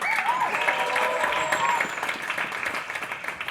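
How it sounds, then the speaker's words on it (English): Audience applause at a live concert by a women's ensemble at Yellowhouse in Rotterdam, steady and dense throughout, a few brief tonal whistles or voices poking through, easing slightly toward the end. "A big applause."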